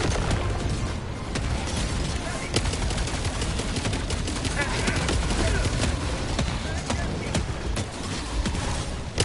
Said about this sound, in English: the mortar's just pelting this Bile Titan